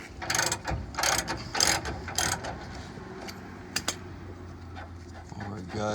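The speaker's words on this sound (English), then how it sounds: "this cracked loose pretty easy. 19 mil socket, 19 mil bolt. Use the half drive wrench" A half-inch drive ratchet wrench with a 19 mm socket works a bolt on a 1990s Ford Ranger spare tire mount, giving quick bursts of clicking ratchet strokes, close and fairly quiet over a low background hum.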